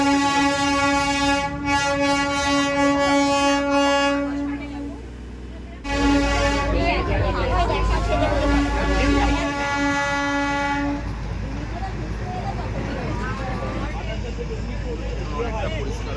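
Darjeeling toy train running at high speed on its mountain line, with a loud, sustained horn blast over steady rolling rumble and clatter of the carriages, then continued rattling movement close by.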